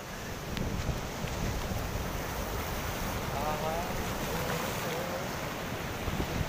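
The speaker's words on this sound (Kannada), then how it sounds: "ಬಂತು ಅಲೆ ಬಂತು." Ocean waves wash onto Murudeshwar beach in a continuous broad roar, with gusty wind buffeting the microphone and a faint voice mixed into the noise.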